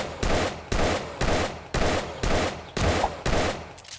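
A Desert Vulture pistol in the survival game 7 Days to Die, fired seven times at an even pace. Each loud, heavy shot rings out alone, with a short decaying tail.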